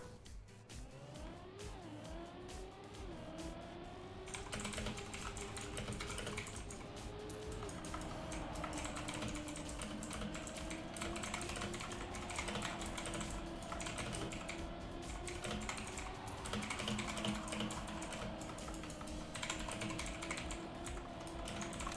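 Typing on a computer keyboard goes on as light rapid clicks under the continuous drone of racing-game engines during a Trackmania tournament broadcast.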